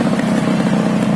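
A 1987 Yamaha RX100 two-stroke motorcycle being ridden, its engine a steady, loud, dense drone with a rapid pulsing rumble, close by and continuous.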